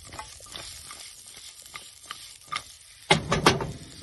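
Vegetables with apple and onions frying in a pan while being stirred, a quiet sizzle broken by a few scrapes and clinks, then a louder cluster of stirring noises near the end.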